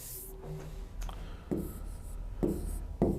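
Pen or marker writing out a maths solution again, quick scratchy strokes in short bursts separated by brief pauses and a few taps, close and moderately loud with no talk.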